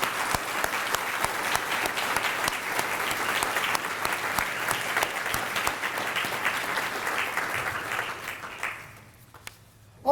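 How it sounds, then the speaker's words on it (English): Sustained audience applause at a university hall of fame ceremony, a dense, even roar of clapping that holds for several seconds before fading quickly near the end. "I would like everyone in here to give her a great round of applause so she feels appreciated."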